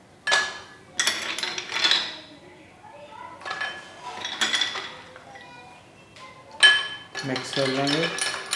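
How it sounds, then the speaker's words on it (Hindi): Spoon stirring a mint margarita in a glass with ice, giving bright clinks and rattles in several short bursts, with a voice speaking in between. "मिक्स कर लेंगे।"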